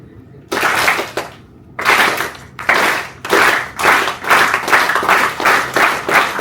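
A classroom of students claps together in bursts, first a few separate rounds with pauses, then a quicker run of rhythmic group claps, loud and close.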